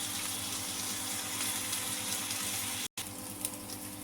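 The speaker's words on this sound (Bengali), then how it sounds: "আলুগুলো একটু ভেজে নিলাম।" Potatoes fry lightly in oil in a pan, giving a steady, close hiss of bubbling oil that runs almost unbroken, with one brief gap.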